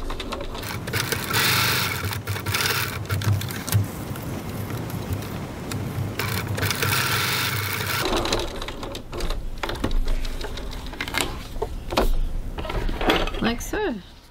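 Close and loud, a sewing machine runs steadily as it topstitches the bottom ends of wallet card slots about 3 mm from the edge, with a person talking over the continuous stitching.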